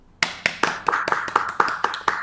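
A quick round of applause on a sports and news podcast: about ten crisp, evenly spaced claps, close and fairly loud, with no talking over them.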